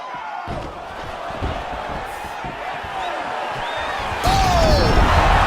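A crowd cheers in the EA Sports UFC 4 fighting game as a bout ends in a knockout. The steady arena roar runs throughout and swells louder near the end.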